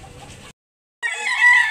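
A gold rooster at a Cebu poultry market gives two short, close, loud clucking calls separated by a brief silence.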